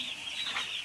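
Two- to three-day-old chicks peeping and cheeping in a continuous faint high chatter from a brooder.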